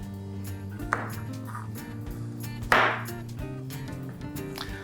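Gatte, gram flour dumplings, are cut on a board for Rajasthani gatte pulao, a few soft knife taps and one sharper chop against a low kitchen background hum.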